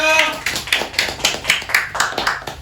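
Quick, rhythmic hand claps, roughly ten of them, come fairly close and loud, with a voice briefly audible at the start of the casual gathering.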